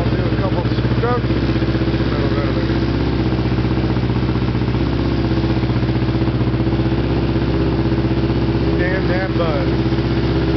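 Kawasaki Ninja 650R motorcycle engine idling steadily while warming up, a continuous low twin-cylinder rumble with a buzzy exhaust drone, close and loud throughout, with faint voices briefly in the background.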